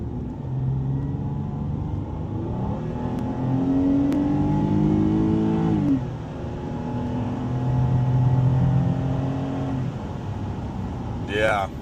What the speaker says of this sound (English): Going on the highway, speed limit's 55. Let's see us get caught up to speed here.